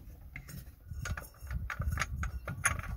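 A van's filter cover is unscrewed by hand: a quiet run of small metallic clicks, ratcheting scrapes and taps, close and irregular, with no talking.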